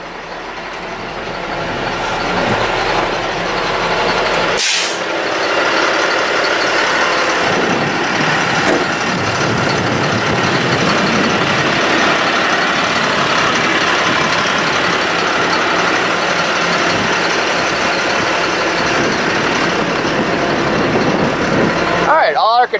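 A 2005 Ford F-570 forestry truck with a Lift-All boom idles with its PTO engaged, a loud, steady diesel rumble that runs on unbroken, with a brief clunk early on.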